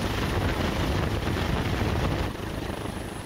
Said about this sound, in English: Once the helicopter arrives and remains hovering due to lack of landing space